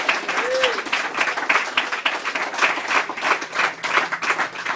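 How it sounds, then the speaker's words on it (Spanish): Applause from a church congregation during a Spanish-language revival service, close and lively, swelling and pulsing in uneven bursts, with a brief voice or whistle-like tone near the start. "Más fuerte ese aplauso para el Señor."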